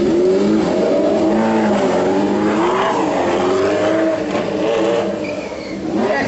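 Loud motorcycle engines revving hard at a streetfighter stunt show at the Sweet Freedom biker meet in Makó, 2013, a continuous roar with rising and falling pitch throughout.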